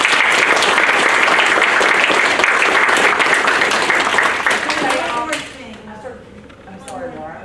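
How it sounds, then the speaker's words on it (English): An audience applauds capstone graduates of a chemical engineering program with sustained dense clapping that fades after about five seconds, after which voices murmur and talk in the room. "Let's give them a round of applause."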